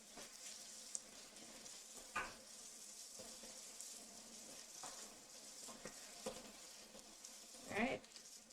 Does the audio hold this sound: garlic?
yes